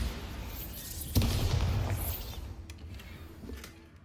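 Bombarda explosion spell in the Hogwarts Legacy video game, a sudden low boom with crackling debris that decays over a few seconds, followed by faint clanks, fairly quiet overall.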